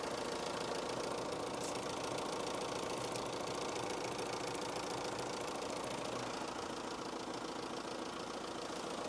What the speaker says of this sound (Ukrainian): Двохлітровий дизельний двигун з потужністю 125 кВт.